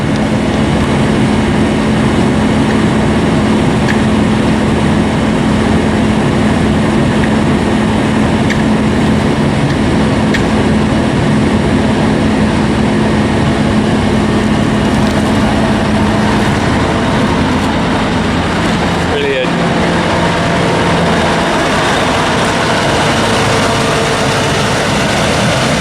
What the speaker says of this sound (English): He's in the forager, look.